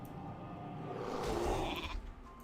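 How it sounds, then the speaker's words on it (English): A single drawn-out sheep bleat rises from a creature polymorphed into a sheep in World of Warcraft, a nasal, wavering cry heard close and alone over faint game ambience. "They always sound so surprised when they've been turned into a sheep."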